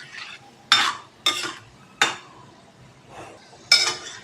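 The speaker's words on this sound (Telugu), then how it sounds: "ఇది కొంచెం గోల్డెన్ బ్రౌన్ కలర్ వచ్చే వరకు ఫ్రై చేసుకోవాలి." A handful of cashew nuts frying in hot oil in a pan, heard as a faint sizzle beneath several sharp metallic scrapes and clinks of a spoon stirring against the pan.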